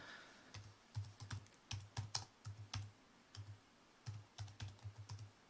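Someone types on a computer keyboard while searching for a Python download, with quiet, irregular keystrokes in quick bursts separated by short pauses and no talking.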